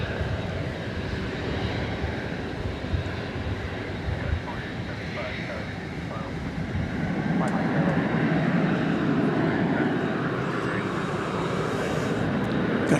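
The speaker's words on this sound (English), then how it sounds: "Frontier Flight 83 coming in from Cancun in Airbus A320neo." A Frontier Airbus A320neo coming in to land at DFW Airport gives a moderate, steady jet-engine rumble that swells slightly toward the end, with some background voices from the watching crowd.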